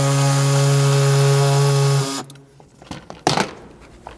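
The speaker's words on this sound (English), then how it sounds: "you can come in with either your cutoff wheel or an air saw like I was using earlier and trim all that out" A cutoff wheel or air saw trims material from a 200 Series Land Cruiser front bumper, a loud steady high whine for about two seconds that stops abruptly, followed by scattered clanks and handling noises.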